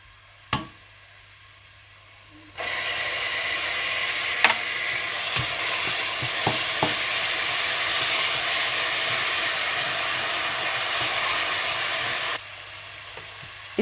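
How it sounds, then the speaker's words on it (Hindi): Steady loud sizzling of ginger and garlic frying in a hot pan with browned onions, with a few clinks of a utensil, starting suddenly and dying down near the end. "आप इसमें अदरक लहसुन डालकर भून लें"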